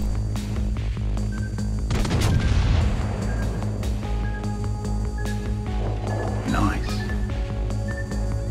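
Battleship main guns fire a salvo in the naval video game World of Warships Legends, a heavy booming burst rolling out mid-clip over a constant engine hum, with someone talking throughout.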